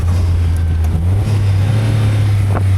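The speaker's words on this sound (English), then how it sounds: "rev matching is almost a bit more difficult in this engine than the other one" A Caterham 170S engine hums steadily at a low, buzzy pitch with a brief shift in tone, close and loud amid road and wind rush, with no talking.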